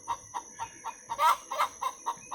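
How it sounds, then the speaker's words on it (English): A laying hen cackles in a steady run of about ten sharp, evenly spaced clucks, two of them louder and longer, close by and with no talk over it. "That's my hen. She's fixing to lay an egg."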